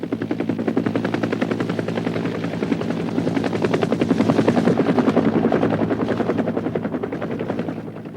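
Cobra military helicopter flying, a loud, steady rotor thump with a dense continuous engine roar, holding close and strong throughout with a slight swell in the middle, no voices.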